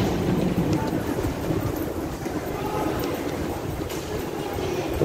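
A Lisbon metro train rumbles along steadily and continuously, a loud, close interior roar with faint rhythmic rail clatter.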